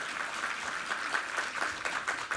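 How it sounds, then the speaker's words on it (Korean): A Sunday church congregation claps in steady, fairly soft applause that carries evenly for a couple of seconds without pause. "우리 하나님께 감사와 영광의 박수 올려드리겠습니다"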